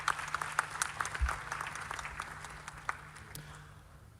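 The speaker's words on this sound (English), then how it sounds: "Shall we do a big round of applause for them?" Audience applause at a media awards ceremony, a steady wash of many hands clapping across the hall that thins and fades toward the end, with a faint low hum underneath.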